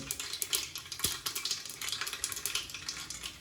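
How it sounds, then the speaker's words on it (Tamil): Quiet, rapid crackling and popping of mustard seeds spitting in hot oil while cooking mutton biryani, continuing steadily with irregular sharp pops. "கடுகு அப்படித்தாங்க பொரிக்கும்"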